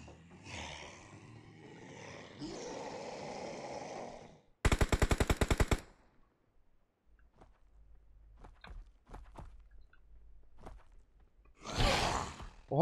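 Machine gun fire in the mobile battle-royale game PUBG Mobile: a loud, rapid burst of evenly spaced shots lasting about a second, surrounded by game ambience, footsteps and other effects.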